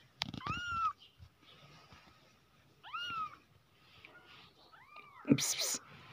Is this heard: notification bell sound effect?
no